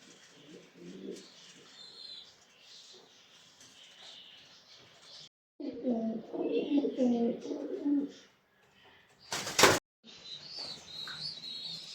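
Andijan pigeons coo in low, throaty bursts, with softer chirps around them, a sharp rustle partway through and a human voice in the background.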